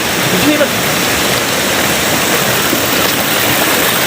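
A loud, steady roar of floodwater rushing after heavy rain, by a damaged bridge, fills the scene continuously, dense and close, with a voice faintly audible beneath it.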